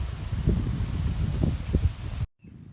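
Strong wind buffets the microphone beside a canal while fishing, a dense low rumble with rustling gusts that runs steadily for about two seconds, then cuts off abruptly to near silence.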